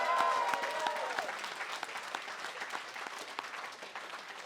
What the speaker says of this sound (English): I'd like to hear a round of applause for our graduating class